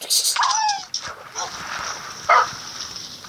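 Dog yelps and whimpers from Minecraft, short high cries in the first second followed by a few fainter yips, with a voice speaking over them.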